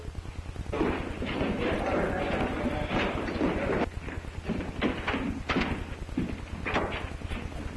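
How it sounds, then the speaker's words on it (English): Horse hooves pound and scramble in a stumble and fall during a 1941 Western film scene, a loud, chaotic burst of thuds and impacts over a constant low hum, with scattered sharp knocks. "My horse stumbled and fell."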